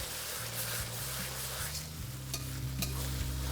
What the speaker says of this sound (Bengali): আর পেস্টটা দেওয়ার পরে এটাকে ভালো করে মিশিয়ে নিন।